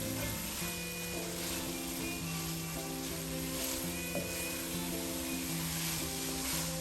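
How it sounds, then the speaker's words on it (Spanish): Risotto rice being stirred constantly in a hot pan gives a steady, soft sizzle with faint scraping, continuous and even throughout, with no talking. "Este arroz lo podemos mover constantemente y es bueno moverlo constantemente"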